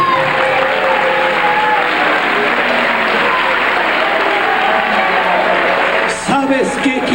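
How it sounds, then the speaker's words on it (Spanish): A church congregation applauds during a sermon, with a thick, continuous wash of many clapping hands filling the space and voices faintly mixed in near the end. "Dele palmas al Rey."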